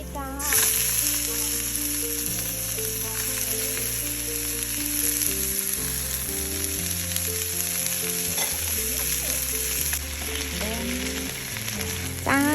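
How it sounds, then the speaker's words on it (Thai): Garlic and broccoli stir-fry in a pan with a steady, loud sizzle and constant scraping stirs throughout, while background music plays along underneath. "แล้วก็เจียวให้หอมนะคะ พอกระเทียมเหลืองแล้วนะคะ ก็ใส่ บล็อกเ"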